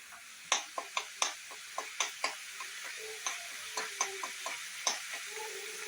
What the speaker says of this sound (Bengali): এবার এটা আমি একটু ভাজা ভাজা করতে দেবো।